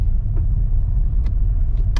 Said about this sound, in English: I kicked the car up in neutral.